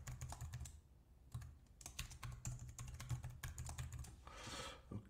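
Soft, close keystrokes on a computer keyboard as a password is entered, an uneven patter of light clicks with short pauses, then a brief rustling burst near the end, with no voice.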